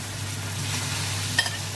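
Steady sizzling and frying hiss of chicken in a hot wok, with a brief scrape of stirring near the end; no one speaks.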